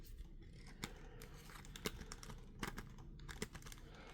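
Small, sharp plastic clicks from the ratcheting joint of a Marvel Legends Hulk action figure sound close and quiet, in an irregular series of separate snaps with no talking.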